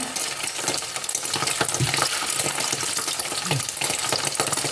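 Hot oil spatters loudly and continuously while fish is deep-fried, a dense crackling sizzle with sharper pops breaking through, close by and without talk.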